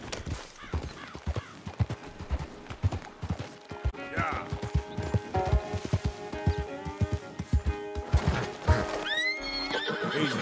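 Horse from the Red Dead Redemption 2 video game clip-clopping steadily while whinnying and neighing, with a rider's voice speaking briefly over the close, rhythmic hoofbeats.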